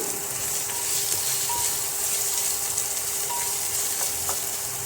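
Onions sizzle steadily in hot oil in a pan while cooking aloo paneer, a continuous, even hiss with faint crackles and no voices.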